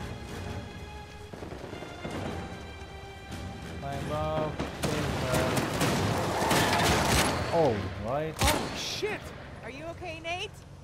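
Gunfire in the video game Uncharted 4 arrives as a burst of shots and impacts building mid-clip, mixed with in-game voices talking and shouting over it.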